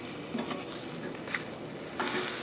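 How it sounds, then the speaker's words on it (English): Swiss chard and mushrooms with shrimp sizzle in a pan as a spoon stirs them, giving a steady near hiss broken by a few scraping bursts, with no talking. "Stir it up."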